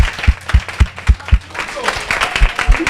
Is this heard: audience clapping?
yes